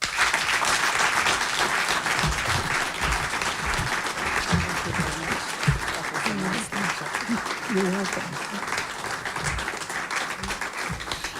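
An audience applauds after an anniversary lecture, sustained dense clapping continuing for several seconds while a voice speaks briefly beneath it.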